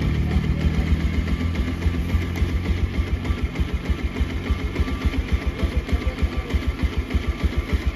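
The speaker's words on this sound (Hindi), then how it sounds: "ये बाइक स्टार्ट है लेकिन RPM थोड़ा कम है" A Bajaj Pulsar 125 motorcycle with a faulty throttle position sensor idles at low RPM close by, its engine ticking and thumping in a fast, steady, even rhythm with no voices.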